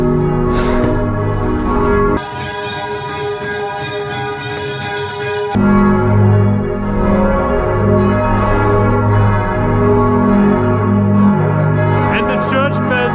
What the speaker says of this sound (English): And the church bells are ringing,